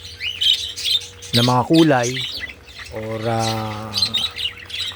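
Pet parakeets, including lutino, albino and opaline colour mutations, give harsh squawks and chirps in a room, mixed with a man's speech that runs over the calls.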